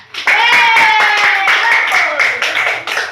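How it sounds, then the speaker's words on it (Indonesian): A first-grade primary class claps hands after a pupil's story, loud and fast rhythmic clapping close by, with children's voices calling out over it. "tepuk tangan"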